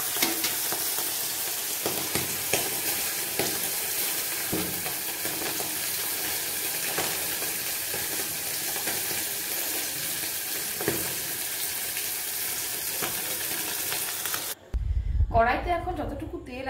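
Bata fish sizzle steadily in hot oil in a kadai, a dense, continuous frying hiss with crackles close by for most of the clip, ending abruptly as a voice speaks briefly.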